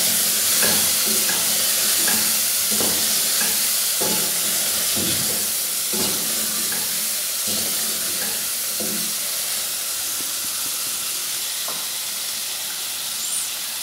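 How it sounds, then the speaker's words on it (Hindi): A spoon stirs coriander powder into chicken biryani masala in a hot pan, giving steady sizzling with repeated rhythmic scraping strokes close by and loud throughout. "अच्छे तरीके से मिक्स कर लेंगे"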